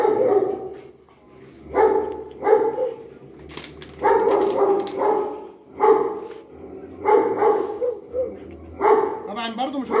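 Dogs bark in short repeated bursts on a farm, fairly close and mixed with someone talking steadily throughout.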